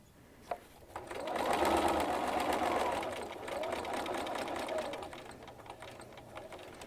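A sewing machine runs steadily for several seconds, stitching along the edge of a fairly firm fabric cuff, its close mechanical whir rising after a brief click and holding at an even level.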